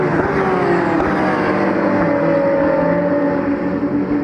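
Porsche 991 Cup race cars at full speed on a circuit, a loud continuous engine roar with shifting pitch as the cars pass close by, no talk.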